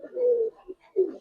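Pigeons coo in a loft of Giribaz and coloured pigeons, two low, rounded coos separated by a short pause, close and clear with no talking.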